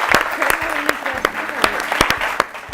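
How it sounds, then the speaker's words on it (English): An audience applauds an all-girls team at a school environment and sustainability quiz. The steady, loud clapping carries crisp individual claps over a continuous wash of hands, with faint voices underneath. "So special round of applause to team number 1."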